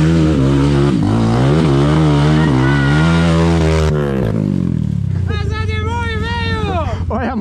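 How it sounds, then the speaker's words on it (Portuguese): A trail motorcycle at an amateur off-road trail ride in Iomerê, Santa Catarina, drones loudly with a steady engine note, then a second bike revs and shifts further off while people talk and shout nearby. "Olha a moto do vampirão ali."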